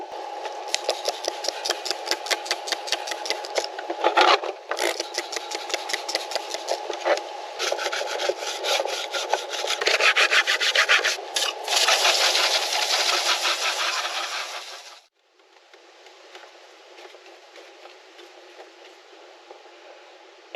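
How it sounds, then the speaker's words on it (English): An interior trim piece from a first-generation Dodge Dakota pickup is scrubbed clean, rapid rhythmic rubbing strokes close to the microphone for about fifteen seconds, then a quieter steady wiping sound. "All it really needs is a little bit of cleaning"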